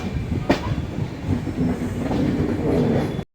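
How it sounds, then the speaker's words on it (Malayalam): The Cholan Express runs on the Chennai Egmore–Tiruchy main line with a steady rolling rumble and clickety-clack of wheels on rail, loud and close for a few seconds before cutting off abruptly. "അങ്ങനെ ഇവിടെ നമ്മുടെ വണ്ടി എടുത്തിരിക്കുകയാണ്"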